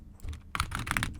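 Quick bursts of keystrokes on a computer keyboard while a postal code or phone number is entered, close and dry, a short pause then a rapid run of clicks with no talking.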